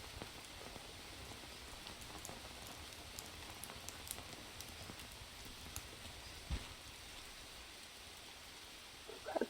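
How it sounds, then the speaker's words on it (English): Steady rain pattering in the jungle survival video game Green Hell, a constant soft hiss with scattered drop taps and a few louder knocks near the end, no talk. "Oh, and it's raining."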